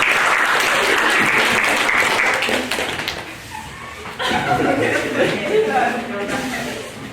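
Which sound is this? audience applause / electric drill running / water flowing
audience applause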